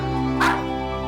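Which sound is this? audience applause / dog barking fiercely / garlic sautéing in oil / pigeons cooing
dog barking fiercely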